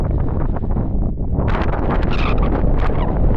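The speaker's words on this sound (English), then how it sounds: "This is the Painted Desert, but the wind is very strong today." Strong wind at the Painted Desert buffets the microphone in a loud, continuous roar with gusty swells throughout.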